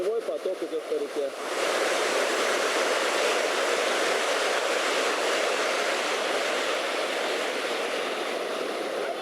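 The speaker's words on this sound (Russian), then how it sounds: "Селевой поток идет по реке." A mudflow rushes down a mountain river in Turkmenistan, a loud continuous roar of churning water that surges in after a brief moment of voices at the start.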